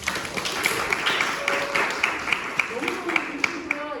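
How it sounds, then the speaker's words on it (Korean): Applause for a department head at an exhibition opening: a small crowd's light, rhythmic clapping, moderately near, mixed with talking voices. "다시 한번 우리 학과장님께 박수"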